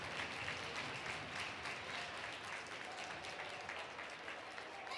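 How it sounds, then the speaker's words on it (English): Crowd applause at a varsity ice hockey quarterfinal as an injured player is helped to his feet, a faint, distant patter of clapping that carries on steadily for several seconds. "Nice little round of applause for him."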